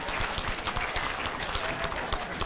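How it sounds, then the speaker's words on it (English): Audience applause fills a spelling bee room, a steady, dense patter of many hands clapping at moderate loudness throughout, with no talk over it. "And a round of applause."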